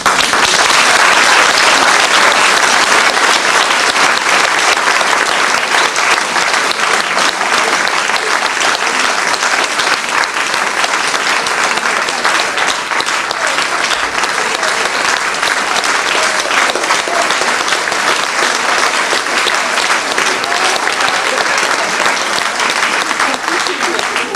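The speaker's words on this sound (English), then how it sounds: "give her the round of applause that she so rightly deserves" A large audience claps loudly and steadily for over twenty seconds, a dense, unbroken wash of applause that never fades.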